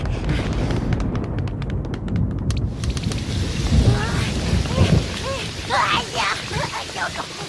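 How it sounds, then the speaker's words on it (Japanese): A summer thunderstorm with heavy rain hisses steadily while thunder rumbles low underneath, and animated voices talk over the downpour. "あ、雷だ。"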